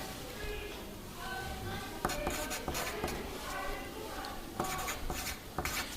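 Pen writing on paper, a close scratchy rubbing with quick strokes and taps starting around two seconds in, over a faint background hiss.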